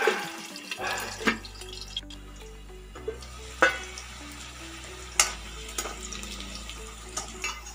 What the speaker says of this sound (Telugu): మూత పెట్టి కొంచెం సేపు ఫ్రై చేసుకుందాం.